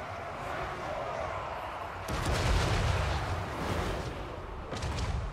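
Booming artillery fire in Total War: Warhammer III: a heavy blast hits, rumbles on, and a second burst follows a few seconds later.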